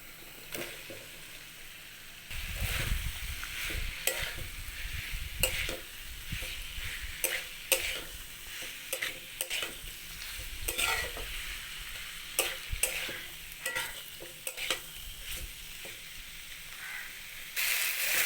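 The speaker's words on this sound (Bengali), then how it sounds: "সবজিগুলো ভালোভাবে কষিয়ে নিয়েছি" Vegetables stir-fried in a pan with chilli, turmeric and salt crackle and sizzle steadily, punctuated by repeated scraping and clacking strokes of a spatula, close and without talk.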